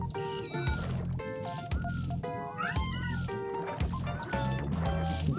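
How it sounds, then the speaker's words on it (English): A cat meows repeatedly at a door, several clear, drawn-out cries rising over steady video game music playing in the room. "she's meowing at my door"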